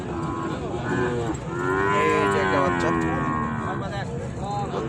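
Several cattle, including Sahiwal bulls and calves at a market, mooing in long, deep, overlapping calls, fairly loud and close, amid a noisy outdoor crowd murmur.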